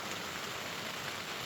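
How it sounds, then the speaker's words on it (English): Steady rain patters on a tent at night in the Colorado wilderness during a thunderstorm, a dense, even hiss of drops with no voices. "it's raining again"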